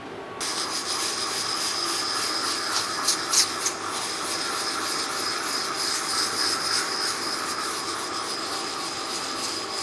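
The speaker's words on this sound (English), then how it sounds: "Sandpaper wears out pretty quick." Sandpaper rubs steadily over a part during setup of a 4th-axis tombstone on a Tormach MicroARC, giving a continuous close scratchy hiss with a few brief stronger strokes.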